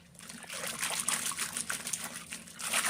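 Water trickling and dribbling steadily through a sieve while wheat starch slurry is strained for Khandesh-style jowar papad, a close, continuous liquid sound with small splashes and no talk.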